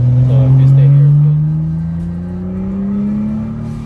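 Engine of a wrecked BMW 435 droning steadily at close range, its pitch rising slowly across the clip, with faint voices underneath.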